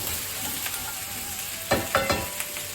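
Teriyaki chicken simmers and sizzles softly in a pan, and several louder scraping stir strokes come near the end. No one speaks.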